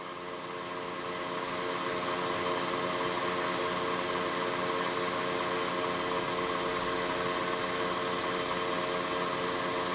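A milling machine spindle spins a 0.5 mm solid carbide bit at full speed, around 40,000 RPM, giving a steady, loud, unbroken whine with layered tonal hum that holds constant throughout.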